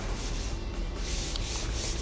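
Continuous scratchy rubbing of a sanding pole dragged across joint compound on a wall, steady and close, with slight shifts in the rasping strokes.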